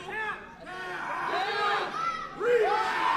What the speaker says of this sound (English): Crowd's yelling tap